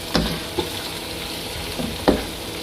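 Cumin seeds and dried fenugreek leaves drop into liver (kaleji) frying in oil, giving a steady sizzle with a few soft stirring knocks and clinks of a spoon against the pan.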